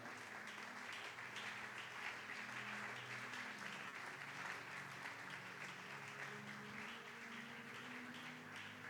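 A church congregation at a French-language morning prayer retreat applauds, a steady, even wash of clapping from many hands that lasts the whole stretch, fairly distant and soft, with no clear voices on top.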